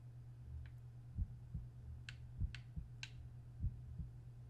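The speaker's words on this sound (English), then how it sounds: "I hear a heart beating." A heartbeat in the video game Omori, heard as slow, soft, low thumps at irregular spacing over a low steady hum, along with several faint high ticks.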